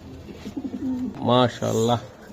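Hungarian Budapest pigeons kept as racing birds give a close, loud, throaty coo, rising into two drawn-out resonant calls after some lower murmuring.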